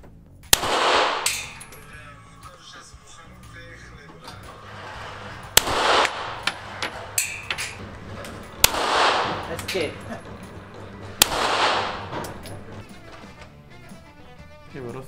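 Four loud Smith & Wesson .44 Magnum revolver shots ring out several seconds apart, each a sharp blast with a brief echo, separated by quieter shuffling and handling noise.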